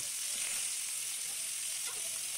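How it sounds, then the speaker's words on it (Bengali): Fish fries with onions in a pan, giving a steady, close hiss and sizzle that holds at an even level throughout with no pauses. "আর এখন আমি কিছু মাছ ভেজে পেঁয়াজ দিয়ে ভুনা করব।"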